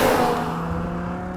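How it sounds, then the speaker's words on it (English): A BMW E60 M5 sedan's V10 engine revs loud and close, a steady high-pitched mechanical whine with strong harmonic tones that hold and slowly ease off. "You've got this screaming engine right in front of you"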